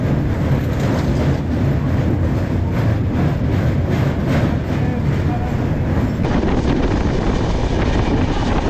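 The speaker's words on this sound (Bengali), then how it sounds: "এই দেখো ওই পাশেও কিন্তু একটা ট্রেন আসছে।" Train running near the Rupnarayan river bridge between Howrah and Purba Medinipur, a steady loud broadband rumble and rattle throughout, with no clear approach swell or horn.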